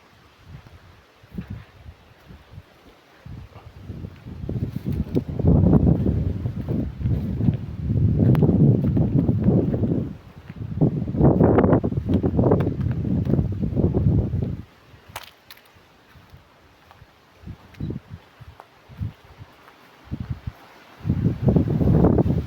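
Strong wind sweeps across farmland with sugarcane fields in Marathwada, producing heavy, low, rumbling gusts that buffet the microphone in long surges separated by quieter lulls.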